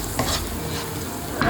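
Spice paste sizzles and crackles steadily in a hot pan for eggplant curry, with brief scraping stirs, close and moderately loud, no voices.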